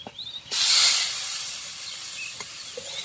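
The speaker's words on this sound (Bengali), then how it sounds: "এবার আমি এর মধ্যে নুন হলুদ মাখানো ইলিশ মাছটাও দিয়ে দেব" Hilsa fish coated in salt and turmeric dropped into a hot pan, a sudden loud sizzle and hiss that bursts in and then settles into a steady frying crackle, with no talking.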